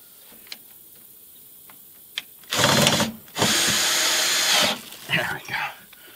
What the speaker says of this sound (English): So I'll put one self-tapper in there and call that a good enough.